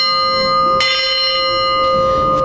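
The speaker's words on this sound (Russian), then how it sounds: "О целебных свойствах колокольного звона известно немало." Church bells ring at a diocesan bell-ringing festival, with steady sustained bell tones and a fresh loud strike partway through, the metallic ringing layered and close with no talking.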